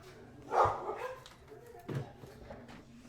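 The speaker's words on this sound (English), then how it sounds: "have to close the blinds so the dogs don't bark at everyone" Dogs barking indoors, with a couple of short, moderately loud bursts separated by quieter moments and no talking.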